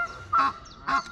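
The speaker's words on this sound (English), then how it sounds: "And there was a geese, yay!" Two loud, nasal honks from geese at a fishing lake, close by and about half a second apart, with no talk.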